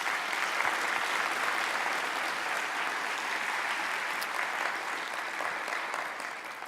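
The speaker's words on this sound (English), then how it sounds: "Please, another round of applause." Steady, even applause from a conference audience at a dementia meeting, continuous and fairly full without letting up, with no voices over it.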